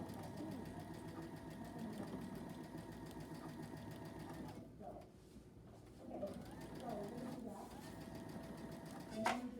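A sewing machine stitches a bear claw quilt block with a continuous fast mechanical whir. It stops briefly, then resumes, heard close and alone.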